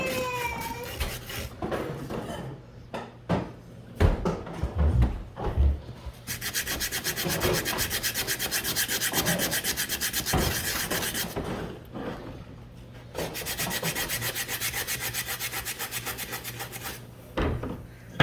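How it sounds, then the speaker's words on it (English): Sanding a small cast iron piece with 80 grit sandpaper, rough rhythmic rasping strokes, irregular at first and then long sustained passes, close and fairly loud, no talk. "starting with the 80 grit first"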